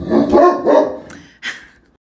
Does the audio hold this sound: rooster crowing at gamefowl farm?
no